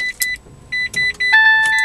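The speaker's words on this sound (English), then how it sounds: "Now I'm just going to start the car." Citroen C-Zero electric car starting up: a series of short electronic beeps and chimes in quick bursts, close and fairly loud, with a faint background hum and no talking.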